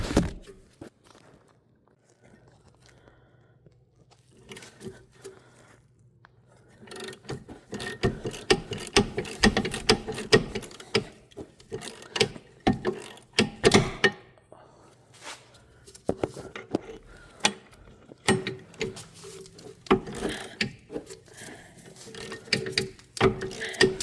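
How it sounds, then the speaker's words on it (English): Ratchet clicking as the brake caliper bolts come off a 2015 GMC Acadia during rear wheel bearing work, quiet for the first few seconds, then rapid bursts of close metallic clicks and clanks with brief pauses. "Removal of brake caliper bolts."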